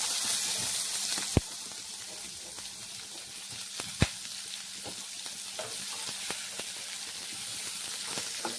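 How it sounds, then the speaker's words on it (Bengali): Chopped onion frying in hot oil in a pan, a steady soft sizzle broken by a few sharp clicks of stirring, fairly quiet and without talk. "পেঁয়াজটা খুব ভালো করে ভাজতে হবে।"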